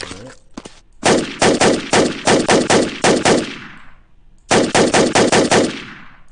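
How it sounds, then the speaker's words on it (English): Bursts of automatic gunfire from a CrossWar video game as a weapon is fired into the air, loud rapid shots in two strings separated by a short pause, each ending in a decaying echo. "let me shoot in the air for"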